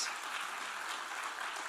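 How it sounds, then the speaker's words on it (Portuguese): Congregation applauding for Jesus during an evangelical church service, a steady even wash of clapping that continues throughout without voices. "E vamos dar um aplauso bem forte para Jesus"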